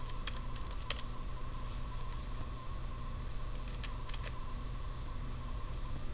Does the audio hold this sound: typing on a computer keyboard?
yes